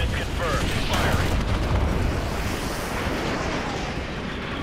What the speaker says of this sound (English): Fire mission received. Artillery inbound. Coordinates confirmed. Firing.